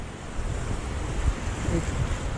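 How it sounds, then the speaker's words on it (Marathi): Sea waves surge and roll continuously, mixed with gusty wind buffeting the microphone. "पुढे लाटा भरपूर झाल्यात आज"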